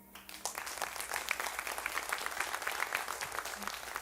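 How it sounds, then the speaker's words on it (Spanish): A church congregation claps together after a short pause, building into sustained, moderately distant applause that carries on evenly, with a little murmur underneath. "pueden darle un aplauso a Dios?"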